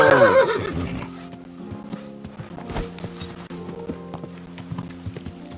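A horse in the video game Kingdom Come: Deliverance II whinnies loudly at the start, followed by steady clip-clopping hooves and faint ambient background.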